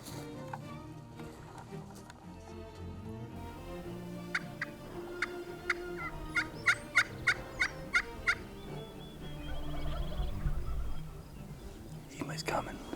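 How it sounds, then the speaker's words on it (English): Several bursts of turkey gobbling in a quick run of calls, moderately distant outdoors, with quiet voices murmuring before and after. "There's turkeys here."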